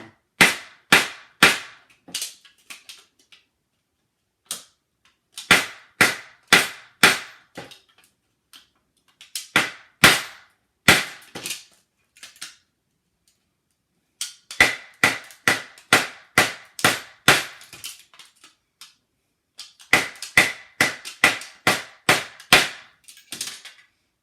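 A wooden stick strikes aluminum cut from a soda can while percussion caps are pressed with homemade tools, giving sharp, bright taps in quick bursts of about eight strikes with short pauses between.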